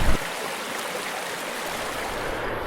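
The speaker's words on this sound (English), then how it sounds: "This is an awesome river." The Hollyford River rushes along in a dense, steady wash of flowing water, loud and close with no break, after a brief bump at the start.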